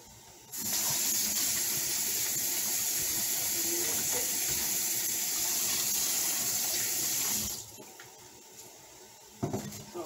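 Water from a kitchen tap gushes into a bowl of chicken for rinsing, a loud steady rush lasting about seven seconds before shutting off, followed by a couple of light clatters.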